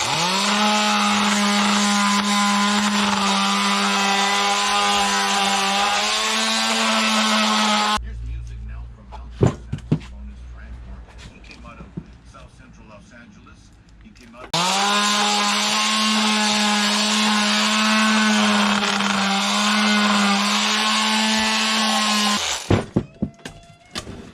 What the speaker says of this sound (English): I'm just going to sand it the best I can and then paint it.